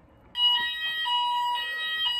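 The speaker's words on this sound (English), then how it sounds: "when I decide to make my food, that's when the fire alarm decides to go off" A fire alarm starts abruptly and keeps up a loud, shrill electronic tone that pulses in a steady repeating pattern. It sounds alone in a quiet room, with no talking.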